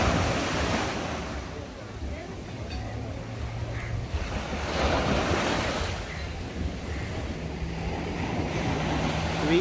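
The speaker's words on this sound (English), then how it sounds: "this is Ngui Beach in Zanzibar, Indian Ocean" Indian Ocean surf at Ngui Beach in Zanzibar: a continuous wash of waves breaking and rolling in on the shore, with wind rumbling against the microphone and swells rising and falling in loudness.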